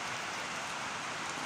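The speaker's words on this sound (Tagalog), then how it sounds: "Grabe man kakusog sa ulan." Heavy rain pouring steadily, a dense, even hiss of water on surfaces, fairly faint and uniform throughout with no voices.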